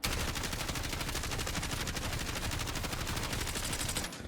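A Kilo rifle in Call of Duty Black Ops 6 empties a full magazine in one long, loud, rapid burst of automatic fire, each shot closely spaced and steady until it stops abruptly near the end.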